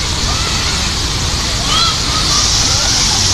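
An outdoor water fountain in Perry Square, Erie, Pennsylvania, gives steady, loud, close splashing and rushing water, with faint voices underneath.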